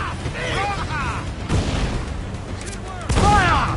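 Ship cannons boom in a naval battle in Assassin's Creed 4 Black Flag, with heavy broadside blasts landing around the middle and again near the end, under shouted game dialogue and background noise.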